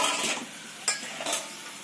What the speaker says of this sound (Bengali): এবার আমি কড়াইয়ের মধ্যে দিয়ে দেব টমেটো।